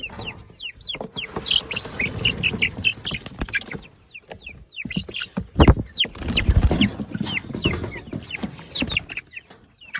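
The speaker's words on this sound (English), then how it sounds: "Woo-hoo, little broilers." Young broiler chickens out on pasture grass for the first time cluck and peep continuously, loud and close, with many overlapping calls and a few louder squawks.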